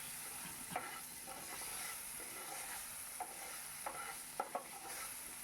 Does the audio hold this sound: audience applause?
no